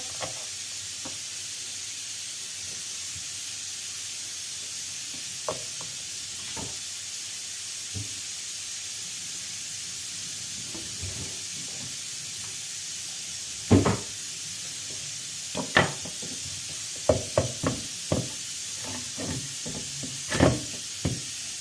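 Green peppers sauté in a pan, a steady soft hiss with scattered clinks and knocks of utensils that grow busier toward the end.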